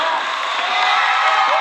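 Wrestling crowd at a live match cheering loudly, a dense steady roar of many voices and whoops, close and sustained for the whole short stretch.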